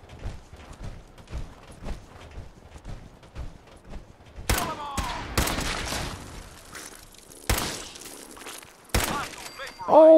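Raider gunfire in Fallout 4: a run of loud, sharp shots with hard impacts and ringing tails, preceded by softer rapid crackling in combat, near and punchy over about ten seconds.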